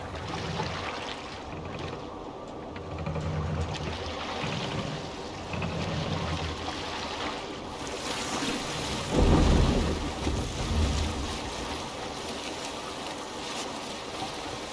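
A Viking boat sails through a fjord in Assassin's Creed Valhalla amid steady rain and rumbling thunder, with a heavier swell of wind and water near the middle and no talking.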